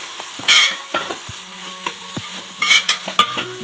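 Onions with salt sautéing in a pan for a traditional Kuttanad duck curry: a faint steady sizzle under scattered clinks and scrapes of a spoon stirring against the pan, with no talk.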